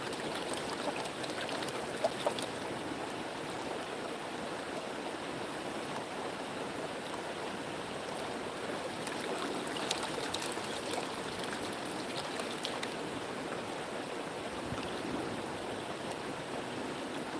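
Water sloshes and trickles softly and steadily in a gold pan during a panning session in Georgia, a faint continuous swirling wash with occasional light splashes.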